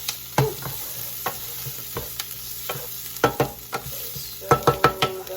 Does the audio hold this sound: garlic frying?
yes